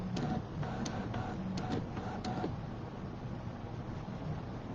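Scan N Cut machine colouring in fills on gift tags, its carriage whirring back and forth side to side with soft rhythmic ticks and clicks, a steady mechanical printer-like drone.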